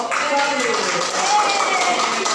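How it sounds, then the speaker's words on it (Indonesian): A classroom group applauds together, a dense, steady patter of many hands clapping at close range that continues without pause. "Silakan tepuk tangan dulu untuk kelompok"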